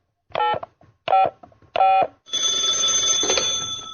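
Three short bursts of touch-tone telephone dialing, each cleanly separated, are followed by a steady electronic ringing tone as radio call-in lines open, loud and close with no voices.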